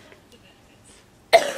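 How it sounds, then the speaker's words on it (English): A single harsh cough from someone who is sick bursts out at the very end after near silence. "My cough sounds disgusting"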